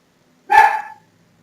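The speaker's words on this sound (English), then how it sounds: "I don't know what my dogs are barking about there." A single sharp dog bark, loud and close, standing alone against near silence.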